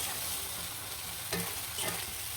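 Spiced potatoes fry in a wok with a continuous sizzle, and a couple of sharper scraping stirs break through near the middle and the end.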